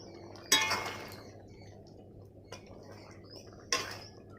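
A lid is lifted off a cooking pot of simmering eggplant, potato and chikni greens, giving a few sharp clinks and clatters at close range with quiet pauses between them.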